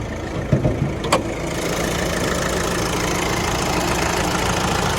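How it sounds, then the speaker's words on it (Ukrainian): A car engine idles steadily with a low, even rumble after a few brief knocks and clicks at the start. "Один із найкращих дизельних двигунів"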